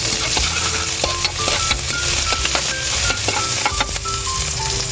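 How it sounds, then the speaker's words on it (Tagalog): Garlic sautés in a pan for pansit bato, a loud continuous sizzle broken by frequent scraping and clinking of a utensil stirring against the metal. "Sa tamang paggigisa po, lagi inuuna yung bawang."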